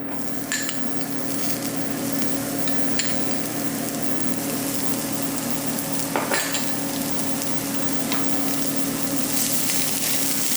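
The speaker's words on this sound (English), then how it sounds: "Once our oil is hot, we're going to add some shallots" Shallots sautéing in hot oil in a pan, with a steady, close sizzle and crackle that carries on throughout, broken by a few brief clinks and stirring sounds.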